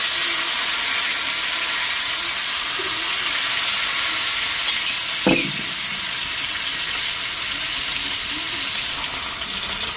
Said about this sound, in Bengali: ইলিশ মাছ ভাজা হচ্ছে